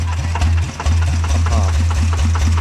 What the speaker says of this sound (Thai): เวลาเอาของก็จะใช้รถไถไปเอานะครับ